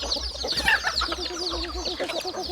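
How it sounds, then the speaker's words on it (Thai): A chicken clucks repeatedly at close range in quick, bubbling bursts over a low background rumble. "ไล่ออกไก่ตัวนั้น"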